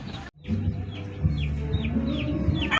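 A hen or rooster at a backyard coop gives a run of repeated clucks and short squawks, fairly close and clear, over a steady low hum with no talking.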